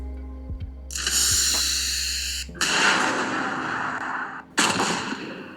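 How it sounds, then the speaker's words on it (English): Three loud explosion sound effects, each a broad roaring burst that rumbles and slowly fades before the next, heard alone without talking. "Do you wanna hear some of my explosion sounds?"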